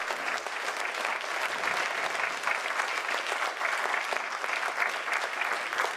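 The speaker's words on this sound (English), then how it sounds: "Could we have another big round of applause to Professor Da Silva?" A lecture audience applauds steadily and loudly for Professor Da Silva, a dense continuous patter of many hands clapping without pause.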